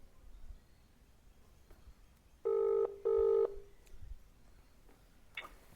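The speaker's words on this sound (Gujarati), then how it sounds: "હાલો તો કરીએ આપણે ભરતભાઈને ફોન તો ચલીએ શરૂ કરતે હૈ" A telephone call rings out in two short electronic ring bursts, clear and moderately loud over a quiet background.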